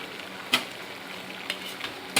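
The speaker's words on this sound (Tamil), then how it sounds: "இப்போ இதில் இந்த கீரையை போட போகிறோம்" Spinach goes into a pan of cooking lentils for a palak gravy, giving a steady soft sizzle and bubbling with a few sharp clatters and stirring knocks.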